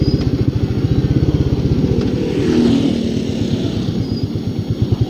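Royal Enfield Meteor 350 motorcycle thumping steadily through a slow U-turn, its single-cylinder beat loud and close, rising briefly mid-turn before settling back into an even rhythmic putter.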